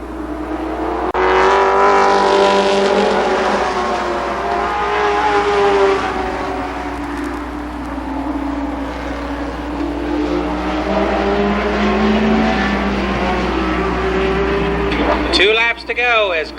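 Race cars at Columbus Motor Speedway roar loudly around the oval with sustained engine drone and shifting pitch as they pass, while a commentator talks continuously over the noise.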